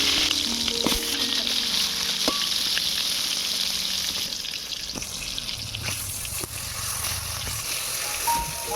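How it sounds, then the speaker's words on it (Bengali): Potol (pointed gourd) fries in mustard oil in a kadai over a lit stove, giving a loud, steady close sizzle that runs throughout, with a few faint clinks from the pan. "এবারে পটলগুলোকে ভেজে নেব"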